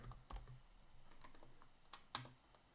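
Quick taps on a computer keyboard, a few scattered keystrokes with short pauses between them, close by and fairly quiet.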